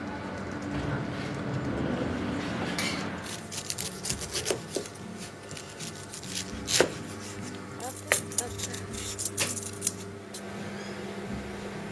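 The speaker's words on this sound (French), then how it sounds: "En attendant, je vais tailler mes fruits" Knife slicing exotic fruits on a cutting board for a mille-feuille, a run of crisp uneven taps and chops, some louder knocks standing out, close and without talk over a faint background hum.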